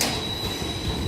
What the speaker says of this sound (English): Great Western Railway service to Portsmouth Harbour.